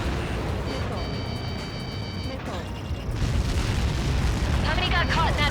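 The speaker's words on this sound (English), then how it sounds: "How many got caught in that explosion?" Missile impact explosion in the Ace Combat 7 video game, a deep rolling boom and rumble mixed with radio-style game voices and electronic tones.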